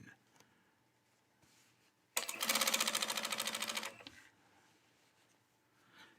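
A walking-needle sewing machine stitches a shirt seam in one fast, rhythmic burst of about two seconds, its rapid clatter loud and close against a quiet room.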